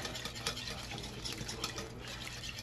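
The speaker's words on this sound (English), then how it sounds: "This is where you're going to have to really, really whisk and work hard" Milk being whisked into a cheese sauce in a pan, a steady quiet swishing and liquid stirring that runs continuously with small irregular pulses, close by and with no voices.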